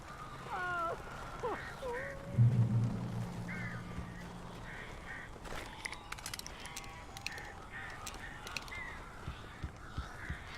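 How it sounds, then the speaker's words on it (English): Crows caw in the video game Alan Wake, a few scattered calls early on, then quieter flapping and clicking bursts over a dark, low ambient bed, with a low rumbling thud near the start. "These birds are weird."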